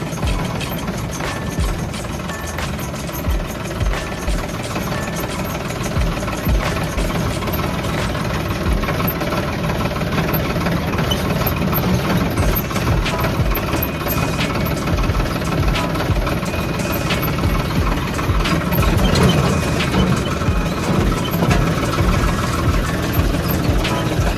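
A heavy tractor engine idles steadily and loudly throughout, a continuous low rumble with a rhythmic knocking vibration.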